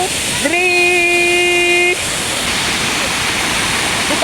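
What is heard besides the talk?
waterfall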